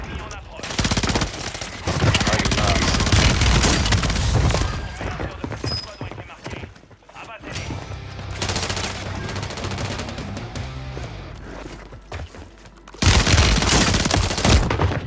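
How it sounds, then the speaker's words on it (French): Heavy automatic gunfire from a Call of Duty match on Rebirth Island, loud rapid bursts of shots across most of the clip with brief pauses, mixed with someone talking. "C'est qui me tire dessus, putain."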